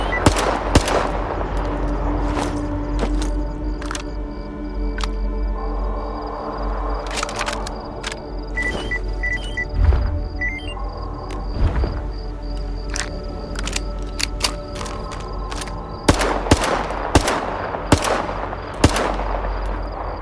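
Gunfire from a newly modded gun in S.T.A.L.K.E.R. 2, sharp cracks in single shots and quick bursts scattered across the clip over a low ambient bed, with clusters of rapid fire toward the end.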